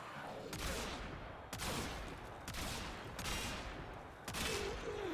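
Kit gun shots in a video game, fired at an enemy: about five sharp, booming reports spaced roughly a second apart, each with a fading tail, set against a steady background hum at moderate level.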